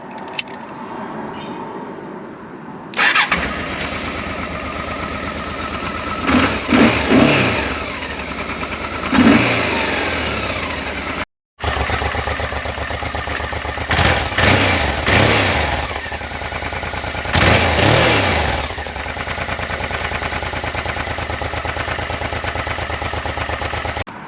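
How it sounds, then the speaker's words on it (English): A 2002 Honda Africa Twin with a 742cc V-twin cranks and catches, then settles into a loud, close idle broken by several sharp throttle blips and revs, with one brief dropout midway. "Let's start the bike up."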